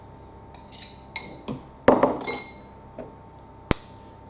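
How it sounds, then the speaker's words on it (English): Eggs cracked one at a time against a bowl for chocolate chip cupcakes, giving sharp separate knocks and clinks spaced through a quiet kitchen, with one louder crack and splatter in the middle. "So I always try to crack my eggs separately, then adding them to my mixture."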